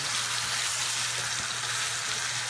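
Ribeye steaks frying in a hot pan, a steady close sizzle with fine crackling spatter, continuous and even, no voices.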